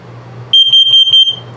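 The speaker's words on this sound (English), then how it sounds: "LP is good, carbon monoxide coming up." A carbon monoxide detector alarm in a 2022 CrossRoads Sunset Trail 242BH RV sounds four sharp, high electronic beeps in quick succession, loud and close, with a low hum before and after.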